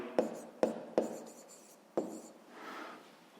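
A pen writing in a notebook up close: several sharp taps as the pen lands, each followed by brief scratchy strokes, then a softer rubbing stroke at the end, with no voice.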